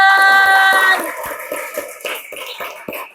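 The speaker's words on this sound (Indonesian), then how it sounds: "kasih tepuk" Students in a physical education class clap their hands, a few loose claps following a sustained tone at the start, spaced and uneven rather than a full applause.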